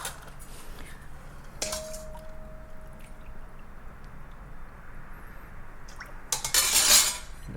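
A ladle scoops dashi from a pot, with soft metallic clinks and a knock early on, quiet liquid movement, then a louder splashing pour near the end.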